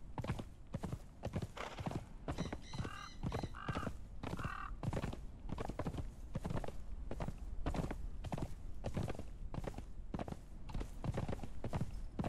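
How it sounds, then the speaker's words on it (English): A horse's hooves clip-clop in a steady walking rhythm, close and distinct, in the Conan Exiles: Age of Sorcery video game, with a couple of brief neighs or snorts partway through. "There's a horse."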